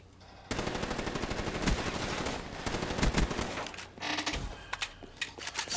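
Rapid automatic gunfire in Black Ops 3, a dense continuous stream of shots with bursts and short pauses near the end, loud and close, with no voices over it.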